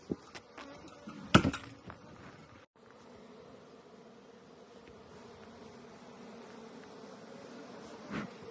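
Honeybees buzz faintly and steadily around a beehive outdoors, a soft continuous drone broken by a couple of sharp handling knocks, with no voices.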